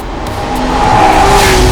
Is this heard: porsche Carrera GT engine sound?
yes